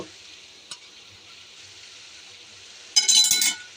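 Okra bhaji cooks quietly in a pan under a soft, low frying hiss with a single clink early on, then ghee goes in and a loud, close sizzle flares up for about half a second before settling.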